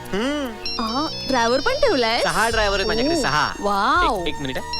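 A mobile phone rings with a melodic ringtone for an incoming call. It plays steadily underneath a lively conversation between a man and a woman.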